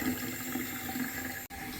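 Water running from a newly installed bathroom sink faucet, a steady soft splashing stream that continues evenly with one brief cut near the end.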